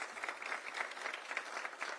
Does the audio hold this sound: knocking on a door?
no